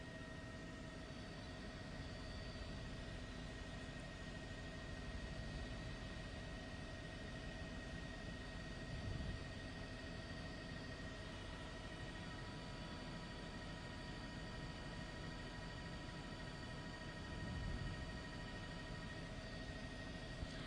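News helicopter hovering over a Long Island Rail Road train accident scene in Westbury, a steady, even drone of rotor and engine that stays constant throughout at a distance, with no voices.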